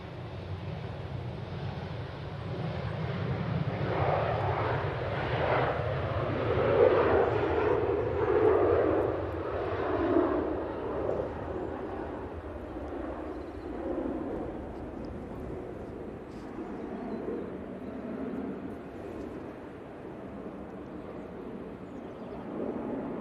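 A Finnair airliner rumbles steadily at Manchester Airport, a broad distant roar mixed with wind buffeting the microphone, swelling slightly midway and then holding fairly even.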